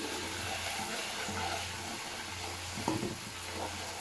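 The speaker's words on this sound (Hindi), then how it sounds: "अच्छा से चम्मच चला लेंगे" Ginger-garlic paste sizzles and fries steadily in a pan while a spoon stirs it, with a brief scrape or clink near the end, fairly quiet and close with no talking.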